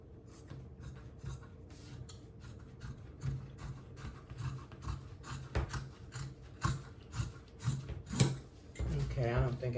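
Scissors snip through thin, skinny elastic while trimming a fabric arm cover for a recliner couch, giving a run of short, close, crisp cuts at an irregular pace with some handling noise and a brief voice near the end.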